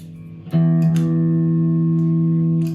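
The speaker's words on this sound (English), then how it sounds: "So it's a reverb and delay in one." An electric guitar chord rings out through a combined reverb and delay pedal with spring and plate settings, struck once and left to sustain, a steady sustained tone with a long smooth tail and no talking.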